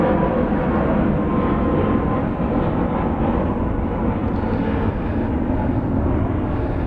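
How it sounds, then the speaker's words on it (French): Airplanes passing by outside, a continuous loud low roar and rumble that holds steady across the whole stretch with no talking over it. "Dehors, il y a des avions qui passent."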